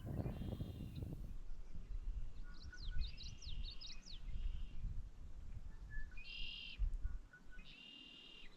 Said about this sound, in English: Very far away was a smaller bird I couldn't identify until seeing the footage later.